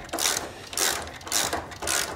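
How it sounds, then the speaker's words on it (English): A bolt on a classic Mini's subframe is undone with a ratchet, giving four evenly spaced bursts of close, rasping clicks with no talking. "I'm just going to undo the bolt this side"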